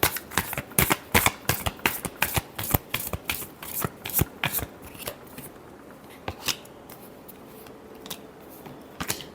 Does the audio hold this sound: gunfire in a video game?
no